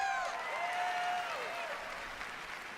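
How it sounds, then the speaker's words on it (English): At a gaming press conference, a crowd applauds with steady, distant-sounding clapping, while a raised voice or whoop rises briefly over it near the start. "clapping."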